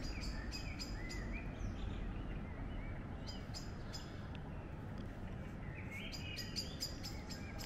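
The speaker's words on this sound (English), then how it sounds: "think the birds will probably stop tweeting soon because it's getting dark." Many birds chirp and tweet at dusk in short repeated bursts, clustered near the start and again toward the end, over a steady low outdoor rumble.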